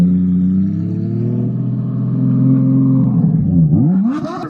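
A straight-piped Porsche 911 GT3 RS revving up close, a loud harmonic exhaust drone that holds steady, swells, then drops sharply and crackles as the revs fall away.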